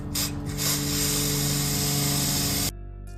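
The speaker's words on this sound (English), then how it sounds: "I'm going to spin the wheel while I spray the chain cleaner." Chain cleaner sprays steadily onto a 2020 Kawasaki Z900 motorcycle chain while the rear wheel spins, a loud, continuous hiss mixed with whirring and ratcheting, cutting off abruptly near the end.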